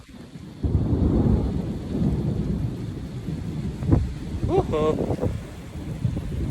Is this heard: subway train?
no